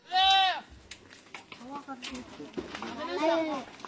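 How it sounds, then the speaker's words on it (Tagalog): Several goats bleat at a family outing in Lipa City, Batangas: a loud, quavering near bleat at the start, then softer overlapping calls, with another wavering bleat rising near the end amid people talking. "Ang daming kambing."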